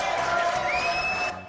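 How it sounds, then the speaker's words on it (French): A studio audience cheers and whoops loudly for a guest named Roland, a dense crowd roar with whistles rising over it, fading toward the end. "applaudissements pour Roland"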